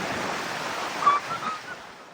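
Floodwater rushing high along the Labo River, a loud steady broadband roar of churning water with no voices.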